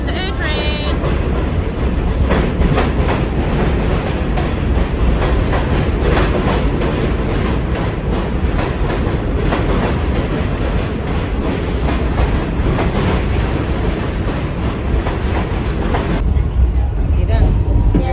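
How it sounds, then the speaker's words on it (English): A New York City subway A train heading to Manhattan, with a loud continuous rumble, rattling car noise and rhythmic wheel clatter filling the whole ride, plus voices talking faintly in the carriage. "Here comes the choo-choo train, the A train"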